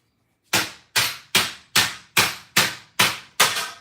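Eight sharp metallic strikes in a steady rhythm, a steel T-post hitting a bucket holding 171 pounds of copper, each a loud clanging hit that quickly decays, with no talking.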